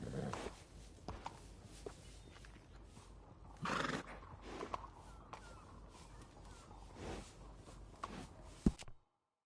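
A horse in Red Dead Redemption 2 whinnies loudly midway, with shorter snorts and neighs scattered around it over steady background ambience, followed by a sharp thump near the end.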